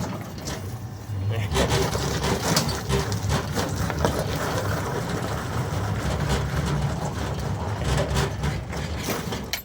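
A motor fitted with a hard start kit runs with a loud, steady, close drone and a low rumble that holds throughout, with a voice speaking over it at times.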